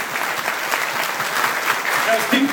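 Audience applause at a New York Comic Con 2017 DC Comics panel, brief steady clapping from the crowd with a few cheers mixed in.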